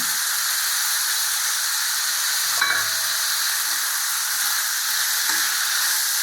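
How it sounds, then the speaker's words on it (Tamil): Brinjal and drumstick pieces sautéing in a pan, giving a continuous broad frying hiss and sizzle with a couple of brief stirring scrapes, and nothing else over it. "இதையும் நம்ம இதில் போட்டு வதக்கிடணும் நல்லா"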